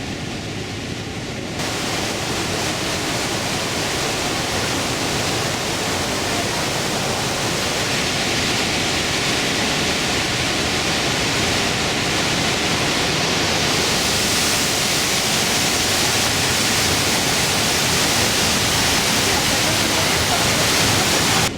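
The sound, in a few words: Trümmelbach Falls waterfall inside the mountain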